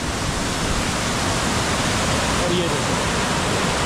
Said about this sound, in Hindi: बीच में आया एक वाटरफॉल और बड़ा वाटरफॉल यही है